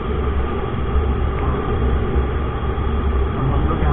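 Trains at Charbagh railway station in Lucknow, heard from alongside the long platforms at night: a steady, loud low rumble of rail cars running continuously throughout, with no voices.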